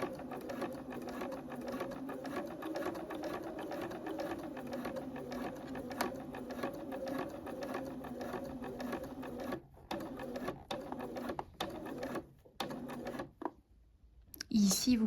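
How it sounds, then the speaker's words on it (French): A domestic sewing machine runs steadily, stitching a topstitch about 2-3 mm from the edge of a top with a 3.5 stitch length, a continuous close whirring hum that stops and restarts in short bursts near the end. "Vous allez réaliser donc la surpiqûre à peu près à 2-3 mm du bord"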